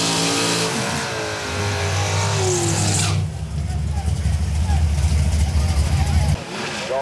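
Street cars rev their engines hard at a demolition derby, a loud sustained roar with rising and falling pitch, then a deeper rumbling idle, while an announcer talks over the noise.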